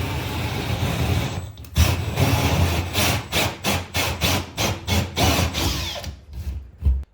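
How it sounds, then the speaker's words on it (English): Hole saw cutting through a plasterboard ceiling: a loud, rough grinding drone that settles into a rhythmic series of rasping bursts as the saw rocks through the board, close and alone. "we've cut our hole in the ceiling with a hole saw"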